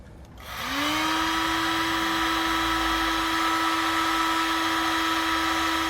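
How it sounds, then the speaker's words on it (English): A heat gun shrinking butt connectors on trailer wiring spins up with a rising whine, then settles into a loud, steady blowing hiss with a constant tone, close by and alone. "take a heat source and shrink up the butt connectors"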